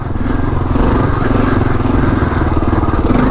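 A Kawasaki KLR motorcycle's single-cylinder engine thumps steadily and loudly while riding over hard-packed desert dirt with soft top layer, a close, pulsing mid-rev drone with light clatter.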